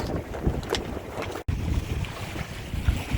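A sailboat heads out under sail at sea off Port-Joinville, with steady wind buffeting, water rushing along the hull and waves slapping nearby, and one brief dropout in the middle.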